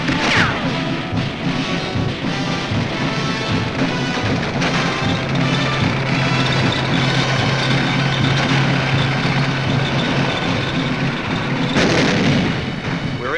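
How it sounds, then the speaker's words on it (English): Tanks coming ashore and grinding inland at Iwo Jima in 1945, a dense, continuous roar of engines and clanking treads mixed with heavy crashes and battle noise, loud and unbroken throughout. "Our tanks come ashore and grind inland."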